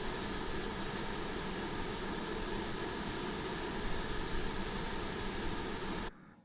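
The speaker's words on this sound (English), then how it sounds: "you should hear the engine start to spoil up" Hawk T1 jet engine in a flight simulator game, a steady loud roaring whine with broadband rush that holds constant for about six seconds before abruptly stopping.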